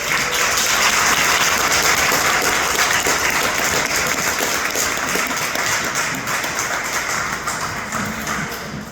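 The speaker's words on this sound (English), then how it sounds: "give him a big round of applause" Wedding guests applauding loudly in a sustained, dense wave of clapping that holds steady for several seconds before gradually tapering.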